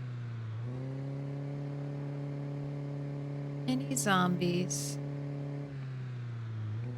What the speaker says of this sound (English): What do you think about this new and improved, much louder reverse noise